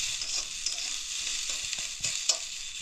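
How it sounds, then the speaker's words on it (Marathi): Onion, garlic, curry leaves and ginger fry in oil for a dhaba-style village chicken curry, giving a bright, continuous close-up sizzle with a few soft stirring knocks and no voices. "कांदा कांदा लसूण कढीपत्ता आलं तेलामध्ये म्हणजे छान असं भाजून घ्यायचं"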